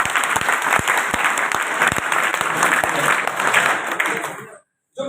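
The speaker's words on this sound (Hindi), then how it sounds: "एक बार जोरदार तालियां हो जाए।" Loud applause from an audience at a three-day seminar, dense crowd clapping with sharp individual claps standing out, sustained before fading and cutting off near the end, with faint voices underneath.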